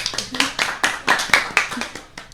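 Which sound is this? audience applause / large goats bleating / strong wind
audience applause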